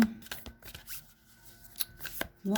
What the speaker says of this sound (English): let's shuffle away